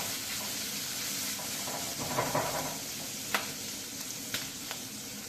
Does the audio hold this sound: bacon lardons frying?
yes